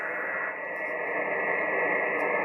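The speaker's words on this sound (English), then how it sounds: "there is a heterodyne there." A steady heterodyne whistle on a Yaesu FT-891 amateur radio, a thin constant tone riding over band-limited hiss and noise from the receiver, alone and fairly quiet.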